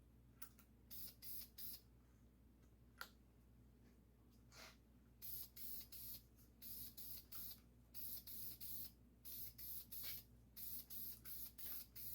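Cheap spray can of primer misted onto masked-off rear shocks of a 1969 Triumph Bonneville, heard as many quick hissing bursts in uneven clusters, close but quiet against a low hum, with no talking.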